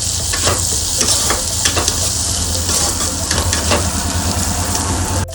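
Chopped onions fry in oil together with prawns in a pan, giving a steady loud sizzle with intermittent scraping clicks from stirring, heard close up throughout.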